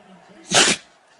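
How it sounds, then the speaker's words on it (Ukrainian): A pet, likely a dog, gives one sharp, close sneeze, a sudden loud burst after a quiet room, with a faint click at the end. "Кобылка как чихает, Катя?"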